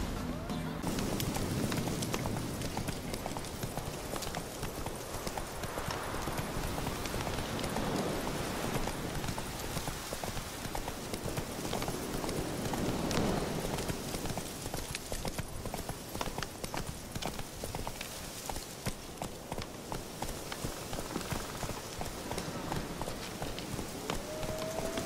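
A horse in The Witcher 3 gallops with steady rapid hoofbeats on a dirt road, close and continuous, over a backdrop of game ambience and music.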